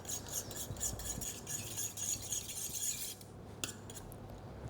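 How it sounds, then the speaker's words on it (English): Eggs whisked in a bowl for a swordfish schnitzel coating, a steady fast scraping rasp of the whisk against the bowl, close and alone, pausing briefly near the end. "So let's give the eggs a bit of a whisk."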